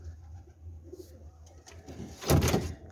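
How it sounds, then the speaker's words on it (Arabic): Black-and-white pigeons in a loft coo softly with low, murmuring calls over a steady background hum, ending in a louder, fuller rustle of sound. "هسه راح اعشى الطيور."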